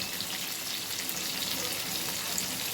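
Fish with fenugreek leaves fries in a pan while garlic is scattered over it, giving a steady, dense crackling sizzle, close and even throughout, with no talk.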